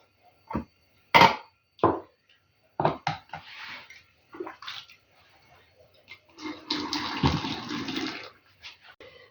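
Water is poured into a pot holding jars of marinated courgettes and cucumbers being sterilised, coming in short splashing bursts, with a longer pour near the end and small knocks and clatters between.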